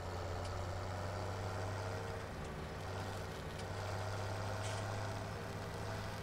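A tractor engine in the video game Farming Simulator 17 runs at a steady idle, giving a continuous low droning rumble with a constant hum and no change in pitch.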